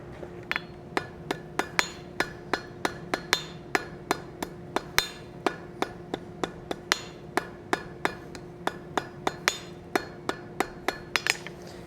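A hammer strikes hot metal on an anvil while forging decorative metal roses, ringing in a steady, quick rhythm of about three blows per second with a bright metallic ping on each hit.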